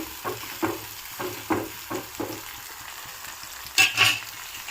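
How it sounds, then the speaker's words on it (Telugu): Onions and green chilies drop into hot oil and fry, giving a soft, steady sizzle broken by a regular series of short stirring bursts, then two louder crackling flare-ups near the end. "ఆయిల్ వేసాను. బాగా వేడైంది. ఇందులో ఒక ఆనియన్స్ అండ్ ఒక పచ్చిమిర్చి కట్ చేసి వేసుకుంటున్నాను."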